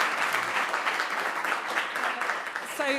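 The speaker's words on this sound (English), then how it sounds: "And one last round of applause for Brian." Conference audience applauding at the end of a talk on catastrophic risk: a steady, dense patter of many hands fills the room for about three seconds, with a brief voice surfacing near the end.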